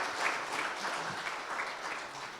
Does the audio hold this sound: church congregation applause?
yes